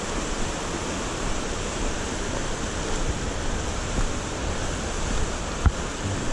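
Emery Creek running high, a constant broadband rush of water that stays loud and even throughout, with one brief knock near the end.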